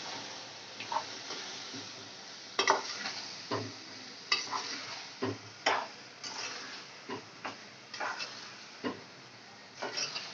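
Masala for mutton keema sizzles in a pan while a spoon stirs it in a repeated rhythm, each scrape and clink standing out over the low frying hiss, close by and with no voices.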